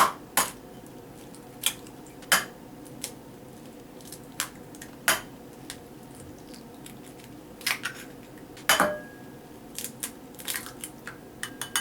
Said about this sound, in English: 4 eggs beaten